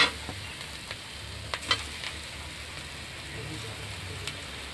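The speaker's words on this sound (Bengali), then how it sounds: "এবার মাখানো আলুটা দিয়ে দিচ্ছি।" Mashed potato goes into a hot pan and is stirred, giving a faint, steady sizzle of frying with occasional soft scrapes and taps of the spoon.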